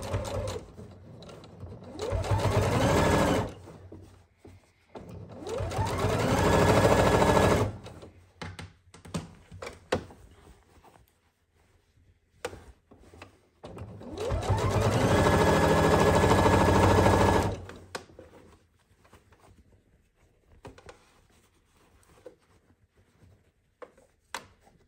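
Sewing machine stitching a seam through velvet on a jacket, running in several long bursts of rapid mechanical whirring separated by quiet pauses and small handling clicks, close and clear with no talk.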